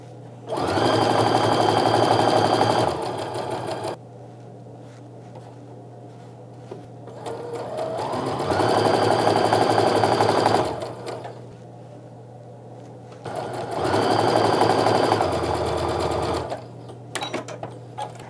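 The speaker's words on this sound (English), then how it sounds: "I'm gonna go ahead and chain piece the rest of those together now." A sewing machine chain pieces quilt fabric rectangles in three steady bursts of fast stitching, each a few seconds long, with short pauses between them and a constant low hum underneath.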